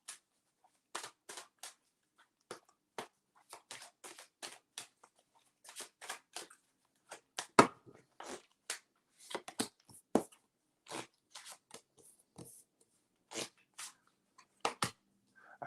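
Close, quiet riffling and snapping of playing cards being shuffled, in irregular bursts of crisp flicks and taps against near silence.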